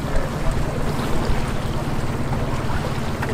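Small boat motoring across a lake in wild northern Canada, a continuous loud rumbling drone with water and wind noise washing over it, steady throughout with no voices.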